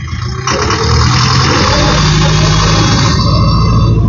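A Farmtrac CRDI tractor engine revved hard, a loud, close, steady diesel roar that climbs sharply after a brief lower idle and holds at high revs throughout.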